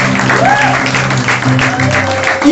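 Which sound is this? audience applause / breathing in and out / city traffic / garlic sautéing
audience applause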